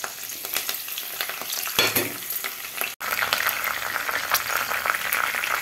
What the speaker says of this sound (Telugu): నూనె వేడెక్కింది ఎండుమిర్చి కరివేపాకు